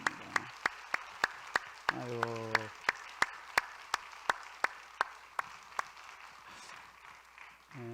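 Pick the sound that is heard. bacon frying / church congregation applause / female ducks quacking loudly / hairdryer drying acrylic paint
church congregation applause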